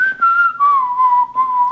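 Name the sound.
person whistling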